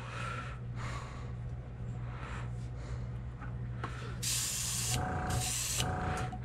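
Airbrush at lowered pressure spraying paint over a stencil onto a shad fishing lure, a soft hiss under a low compressor hum, then two louder, brighter bursts of spray near the end.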